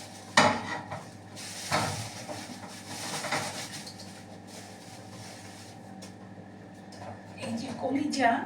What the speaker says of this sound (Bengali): আদা রসুন ওভেনে কিন্তু এগুলো ভাজবো